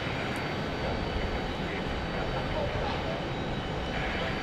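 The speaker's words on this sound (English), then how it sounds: "this is A321neo from Philadelphia" An Airbus A321neo from Philadelphia passes with a steady, broad jet engine roar, continuous and fairly even in loudness throughout, heard from an airport plane-spotting position, with a voice talking faintly underneath.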